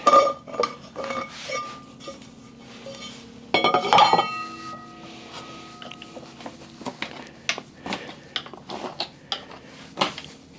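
The lid comes off a large rock tumbler barrel with scattered clinks, knocks and metallic rattles, including a brief busier burst of clattering in the middle, in an otherwise quiet space.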